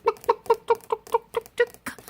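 A Mille Fleur d'Uccle rooster, a crippled bantam, gives a run of eight or nine short, evenly spaced clucks, close and clear, with no voices over them.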